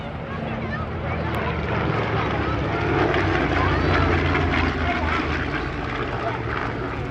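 A Focke-Wulf FW-190 Second World War fighter chases two Spitfires at the Wings Over Illawarra 2022 airshow, with a loud, steady engine roar that stays unbroken throughout.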